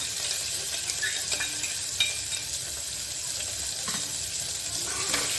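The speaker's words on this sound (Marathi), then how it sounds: "त्यानंतर मिरच्या घालू आणि कांदा कापलेला." Green chilies and chopped onion frying in a pan for dal fry, giving a continuous close sizzle with occasional light stirring clicks and no voices.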